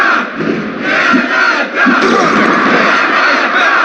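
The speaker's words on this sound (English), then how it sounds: "Listen to this crowd." Wrestling arena crowd in the WWF War Zone PlayStation game roaring and cheering in a loud, continuous frenzy of massed voices with small swells and dips, no commentary over it.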